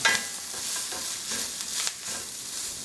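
Vegetables and garlic sauté in a pan for a vegan mushroom étouffée, a steady close sizzle with soft scraping stir strokes running throughout.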